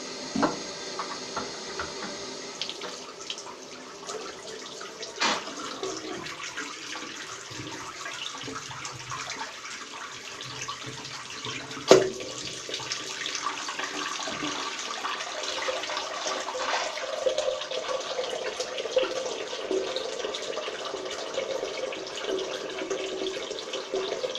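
Water runs steadily while a shower is cleaned, a continuous hiss and splash with occasional knocks and a sharp clack midway, close by and without talk.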